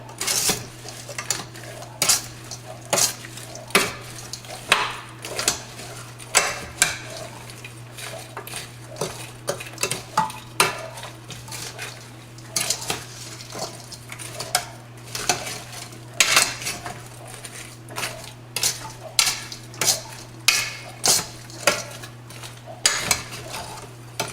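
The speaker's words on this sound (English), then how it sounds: "put it in the pot and stir it" A utensil clanks and scrapes repeatedly against a pot while vegetables coated in oil and seasoning are stirred, making a steady run of close metallic clinks over a low background hum.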